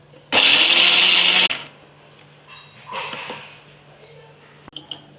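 A blender grinds cashew nuts in one loud burst of about a second, then stops, followed by quieter handling clatter and a few small knocks.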